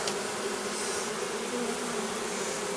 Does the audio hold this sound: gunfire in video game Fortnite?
no